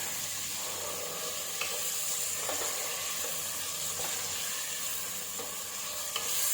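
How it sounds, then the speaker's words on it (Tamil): Ginger garlic paste sautés with vegetables in oil for a vegetable pulao, a steady, dense sizzle with soft stirring scrapes throughout, close and even in level, with no talk. "தேவையான அளவுக்கு இஞ்சி பூண்டு பேஸ்ட்டு போட்டு வதக்கிடுங்க."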